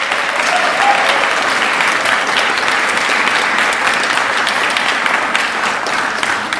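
Steady, dense applause from an audience at a policy talk, a continuous crackle of many hands clapping at even loudness throughout, with no voices over it.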